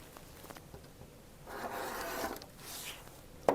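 Rotary or scissor cutting through stacked quilt fabric blocks on the diagonal: a soft, close rasping slice lasting about a second, with faint rustling before and a small click at the end, no talking.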